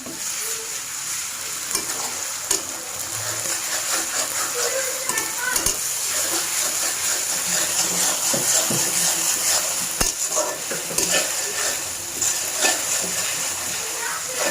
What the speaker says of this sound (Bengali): এখন এর মধ্যে আমি দিয়ে দিব আদা রসুন বাটা